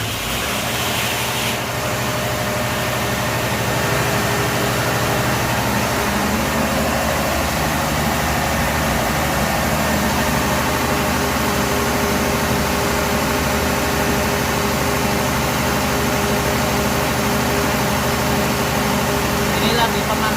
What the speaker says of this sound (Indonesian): Kemudian sekarang coba kita posisikan genset 2 ya, genset 2 saja. Jadi sekarang kita start ya.